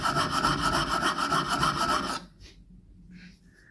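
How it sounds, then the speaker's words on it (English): A chisel's cutting edge ground on a homemade sharpening station: about two seconds of steady, close rhythmic rasping strokes that stop abruptly, followed by near quiet with a few faint taps. "We now grind the cutting edge a little more on the other side."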